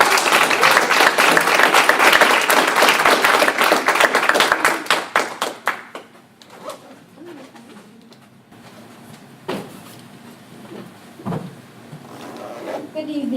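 An audience at a magazine launch and award event applauds a featured author, loud sustained clapping for about five seconds that then dies away to a few scattered claps and room murmur.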